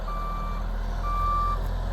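Tow truck reversing beeps: two steady electronic tones, each about half a second long, sounding over a constant low engine rumble with no talk.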